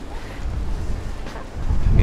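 Strong wind blowing at Namsan's N Seoul Tower in Korea on a snowy day, a steady low rumble of gusts buffeting the microphone that swells louder toward the end.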